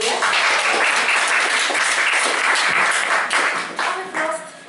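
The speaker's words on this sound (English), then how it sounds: "Applause for Yulia." Continuous, loud audience applause at a Toastmasters speech meeting in Kiev, Ukraine; dense clapping from a room full of people holds steady for several seconds before tapering slightly at the end, with no voices over it.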